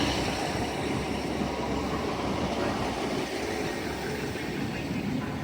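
Class 152 diesel multiple unit arriving at York station on a terminating service from Sheffield, a continuous loud rumble and rolling hum with broad station noise throughout.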